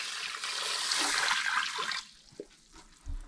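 Water poured into a pressure cooker holding long grain white rice, a steady broadband splash and trickle lasting about two seconds, then a few small knocks and clatters, with no talk.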